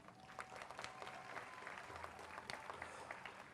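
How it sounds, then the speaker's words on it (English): Audience at a college spring commencement ceremony applauding the graduates' supporters, a steady spread of many hands clapping, faint and somewhat distant, with scattered sharper claps standing out. "a round of applause to all those people who supported you, students."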